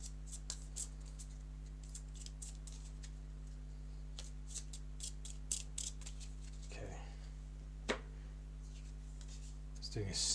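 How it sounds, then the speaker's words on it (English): A small deck of about twelve game cards being shuffled, giving faint repeated riffling snaps and light shuffles over a steady low hum, close but quiet, with brief sharp handling noises toward the end. "Because it's only 12 cards, but difficult to shuffle."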